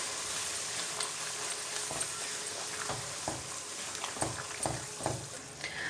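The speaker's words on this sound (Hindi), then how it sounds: "मिक्स करेंगे मूली को और साथ ही हम डाल देंगे गरम मसाला" Radish curry with garam masala being stirred in a pan: soft scraping strokes and irregular spoon knocks over a steady low sizzle, close and fairly quiet.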